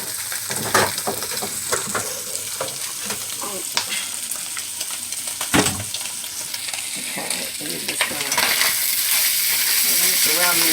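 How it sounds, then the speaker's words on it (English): Lamb meat frying with vegetables in a hot pan, a steady close sizzle with scattered stirring clatters and scrapes, the hiss growing louder toward the end. "And the meat's cooking."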